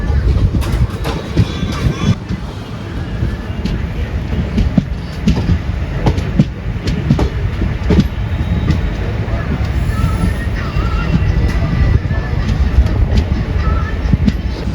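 The Kollam–Tambaram Mail runs along the Kollam–Punalur line in Kerala with a continuous loud rumble and rhythmic clickety-clack of wheels over rail joints, heard close from aboard the train.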